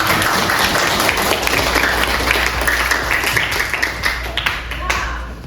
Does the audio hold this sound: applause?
yes